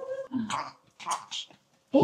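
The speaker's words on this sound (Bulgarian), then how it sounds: "Кучета." A dog gives a few short, separate barks and yelps with pauses between them, fairly close and clear against a quiet background.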